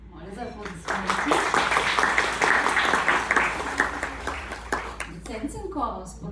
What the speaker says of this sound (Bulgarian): Моля за аплодисменти.